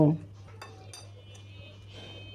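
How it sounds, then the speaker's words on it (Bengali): A metal frying pan clanks once as it is set on the stove, followed by a few light clinks of cookware over a low kitchen hum. "চুলায় প্যান বসিয়ে দিয়েছি,"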